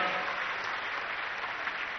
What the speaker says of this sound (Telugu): గట్టిగా చప్పట్లు కొట్టి మీరు కూడా అభినందించాలి